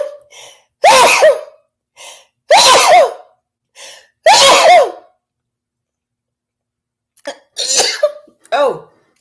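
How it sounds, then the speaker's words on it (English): Several loud, close sneezes and sneeze-like bursts in quick succession, followed by a short pause and then a few more smaller sneezes and gasps, with no other sound in between. "I'm gonna sneeze."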